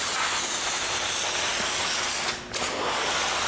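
A pump foam sprayer steadily hisses rinseless car wash foam onto a car, a continuous broad spray with a brief dip near the end.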